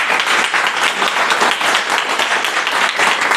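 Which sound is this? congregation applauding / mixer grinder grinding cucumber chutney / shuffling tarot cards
congregation applauding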